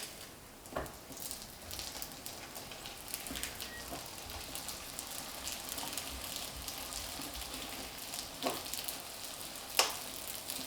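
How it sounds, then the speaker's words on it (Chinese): A chive-filled pancake fries gently over medium heat in an oiled pan, giving a soft, steady sizzle with a few faint clicks and taps, close by and fairly quiet. "烙至饼的表面微微变色，我们给它刷油。"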